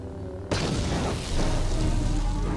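A grenade goes off in Star Wars KOTOR as a sudden loud boom, followed by a sustained roaring, rumbling blast wash that stays dense for the next two seconds.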